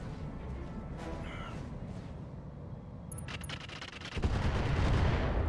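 Mech weapons firing in the BattleTech game, heard as a run of rapid crackling shots that builds into a louder, heavier rumbling salvo toward the end, set against steady battle ambience.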